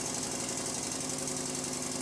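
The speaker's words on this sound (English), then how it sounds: "I ran the engine at a high speed." A Stuart Number 4 steam engine runs at high speed on a workbench, giving a steady, fast mechanical chatter and hum that stays close and constant throughout.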